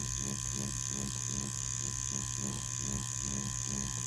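A wireless Ambition Ninja tattoo machine buzzes at 5 volts with a constant close electric hum, a rapid steady needle drone without pause.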